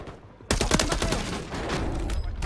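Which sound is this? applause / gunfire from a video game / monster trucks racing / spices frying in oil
gunfire from a video game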